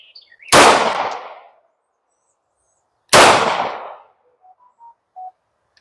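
A handgun fires two loud, sharp shots, about two and a half seconds apart, each with a decaying outdoor echo, aimed at a mattress on the ground; faint bird chirps follow in the quiet afterward.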